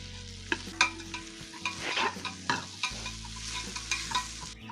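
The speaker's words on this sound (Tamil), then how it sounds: "இஞ்சி பூண்டு நம்ம போட்ட புதினா கொத்தமல்லி எல்லாம் நல்லா வதங்கி வந்துருச்சு" Ginger, garlic, green chili, mint and coriander sauté in a pan for fish biryani, with a brisk sizzle broken by repeated close scraping stir strokes in an irregular rhythm, and no voices.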